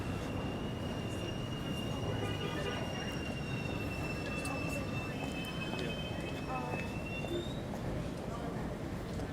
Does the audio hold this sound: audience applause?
no